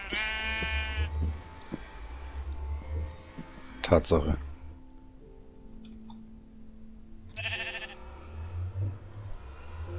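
Sheep in a Minecraft survival game bleat in short wavering bursts at the start and again near the end. Clicks and a sharp clatter come in between, and someone speaks briefly in German.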